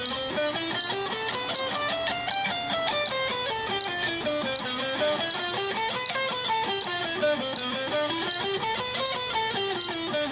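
Fast, even sixteenth notes plucked on a guitar in a steady rhythm, a melodic line rising and falling with a regular click marking each beat.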